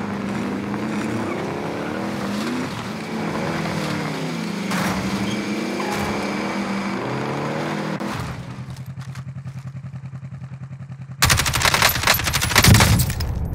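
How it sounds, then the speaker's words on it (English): Call of Duty Warzone gameplay with loud bursts of gunfire over a constant engine-like drone, then a dense, sharp volley of shots at the end, with no speech. "I'm taking fire!"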